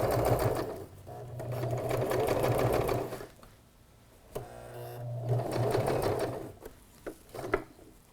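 A sewing machine runs in two long stretches stitching fabric for a pencil case, a close, steady mechanical whir with a brief pause and some handling clicks between.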